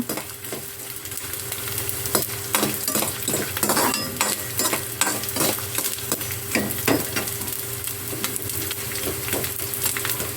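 Fenugreek seeds roasting in a pan over a low flame, stirred with a utensil that scrapes and taps repeatedly against the metal above a soft, steady sizzle, heard close up with no talking.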